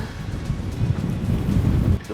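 Strong wind buffets the microphone on a mountain top with a cable car, a steady low rumble and gusty roar under faint voices.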